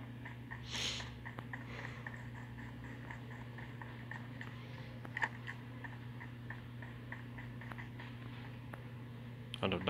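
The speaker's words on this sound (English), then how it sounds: "I have the cold, so sorry if I'm sniffling a lot." Someone with a cold sniffles and snorts through the nose, one strong sniff near the start and fainter ones later, close and soft over a steady hum and faint ticking from a PUBG game.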